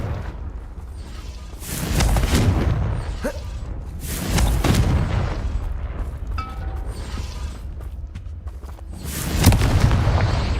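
Fiery Confringo spell blasts in the Hogwarts Legacy video game, three deep booming explosions spaced a few seconds apart over a low rumbling game background.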